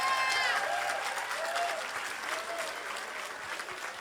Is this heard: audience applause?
yes